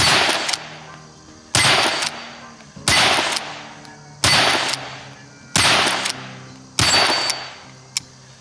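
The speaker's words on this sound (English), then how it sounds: "So let's fire some downrange." Henry Golden Boy lever-action rifle in .22 Magnum or .17 HMR fires six sharp, loud shots at roughly one-second intervals, each crack followed by a short decaying echo.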